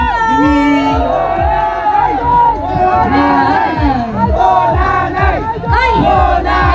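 A large crowd at an evening show cheers, whoops and shouts loudly in overlapping voices, rising and falling in waves of excited yelling that fill the whole stretch.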